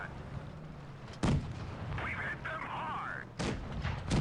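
Tank cannon fire in WOT Blitz from a Chinese tier 5 Type T-34 medium tank: two heavy booming shots a couple of seconds apart over a rumbling engine and battle din, with a voice talking throughout.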